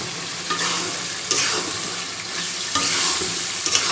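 Chicken skin, gizzard and liver sautéing with potatoes and garam masala in a hot pan, a continuous loud sizzle broken by repeated scraping stirs of the spatula, close up with no talking.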